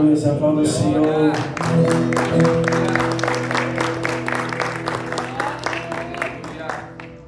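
A church congregation claps in praise during a worship service, a rhythmic run of hand claps over sustained music and singing, loud at first and gradually easing.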